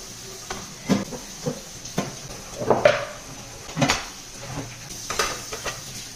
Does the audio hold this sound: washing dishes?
yes